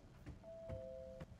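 A doorbell in the video game Tell Me Why: a soft, sustained two-tone chime held for nearly a second, faint under quiet ambient room sound and a few light knocks.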